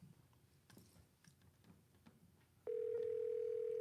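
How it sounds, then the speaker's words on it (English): A telephone's steady ringing tone sounds loud and continuous in the last second, after faint background shuffling and clicks, heard while calling from a spot in Groton. "Okay, it's here. It's ringing now. It's ringing."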